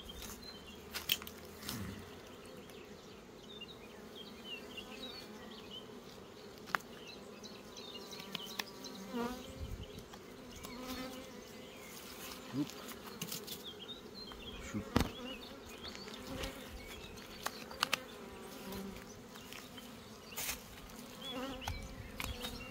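Honeybees buzz at an open beehive during early rapeseed bloom, a soft steady hum with scattered clicks and knocks of frame handling close by.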